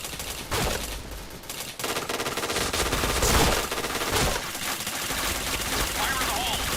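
Rapid gunfire bursts from the Point Blank shooter game, with dense repeated shots and loud game effects running steadily throughout, while players talk over the action.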